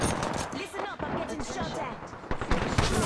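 Gunshots in Apex Legends during a squad match, sharp cracks scattered through the clip, some clustered near the end, mixed under excited shouting and talk from players.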